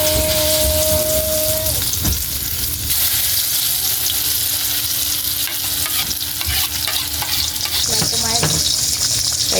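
Eggplant sizzles loudly in a hot pan while a utensil stirs and scrapes through it, the frying hiss steady and close, with brief clinks of metal against the pan.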